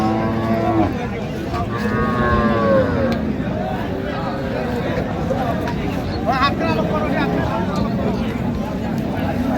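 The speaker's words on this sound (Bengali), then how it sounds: "বেশ সুন্দর গাভী বাছুর আমরা দেখছিলাম এখানে" Cattle low and moo amid a busy crowd at Raniganj cattle market in Dinajpur, with steady chatter and bargaining voices throughout.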